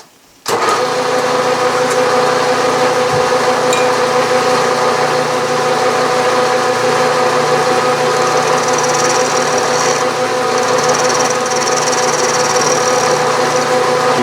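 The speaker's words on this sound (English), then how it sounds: "The drill bit is set up in the milling machine here, holding it by the flutes, and let's see if it's soft enough to mill." A milling machine cuts a flat on an annealed, dead-soft drill bit clamped by its flutes, a loud, steady motor whine with layered tonal hum that starts abruptly and runs unbroken, with faint higher scraping later.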